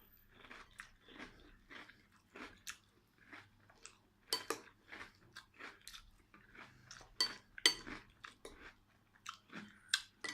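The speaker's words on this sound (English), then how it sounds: "it's very crunchy and quite difficult to work through" Lion cereal is chewed close up, with loud, irregular crunches and crackles in a steady run of bites and chews, and no talking in between.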